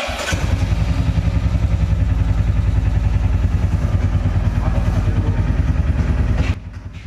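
A Royal Enfield Classic 350 motorcycle, just back from its second service, thumps at idle with a loud, close, evenly pulsing single-cylinder beat that cuts out abruptly near the end.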